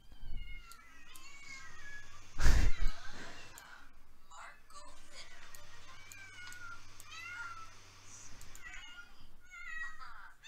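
Several cats meow repeatedly in The Sims 4, a cluster of mewing calls spread across the clip with a loud burst near the start, set over quiet game ambience and a faint background voice.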